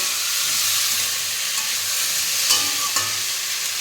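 Spice paste frying in hot oil for a rohu fish curry: a steady, close sizzle and hiss throughout, with a couple of brief clinks of stirring near the end.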